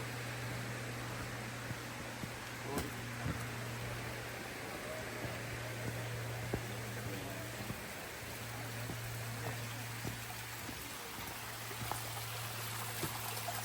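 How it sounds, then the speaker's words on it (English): A steady, broad rushing of falling water at Helton Creek Falls near Blairsville, Georgia fills the air, continuous and even, with a low hum underneath and occasional faint clicks. "I can hear the waterfall"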